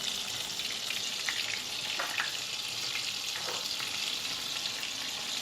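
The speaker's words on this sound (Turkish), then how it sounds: "Biraz soğanımı böylece kavuracağım." Chopped onion sautés in hot oil in a pan, a steady, even sizzle and frying hiss that holds at a constant level throughout, with faint stirring scrapes and no talk.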